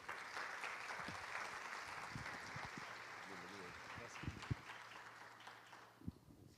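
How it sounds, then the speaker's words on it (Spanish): Soft audience applause welcoming a speaker at an education conference on artificial intelligence, steady and fairly distant, with faint murmuring beneath it and the clapping thinning out toward the end. "a quien recibimos con un fuerte aplauso"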